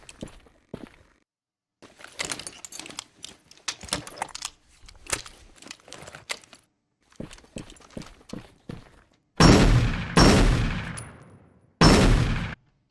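A Soviet sniper rifle firing in a video game, a few sharp, loud shots with short decaying tails near the end, preceded by quiet clicking, handling and footstep-like sounds.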